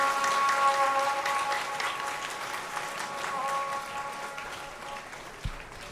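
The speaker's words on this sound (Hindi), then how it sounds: "ताली बजा करके खूब स्वागत करें" An audience at Shantikunj, Haridwar applauds to welcome a guest, steady, moderately loud clapping from a large crowd over a faint sustained tone, easing slightly toward the end.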